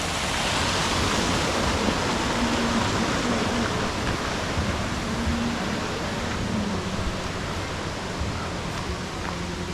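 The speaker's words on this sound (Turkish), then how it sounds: "Şurada bir şelale var." A waterfall, apparently man-made, at a flowing-water park at Ermenek's Zeyve market gives a steady, loud broadband rush that holds evenly for about ten seconds, with faint voices in the background.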